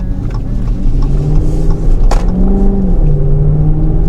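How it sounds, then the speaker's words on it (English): A car doing donuts nearby, heard from inside a 2013 Dodge Charger R/T: a steady low engine rumble with a rising and falling revving tone and a sharp broadband burst midway, continuous and fairly loud with no talking. "there's somebody doing donuts here"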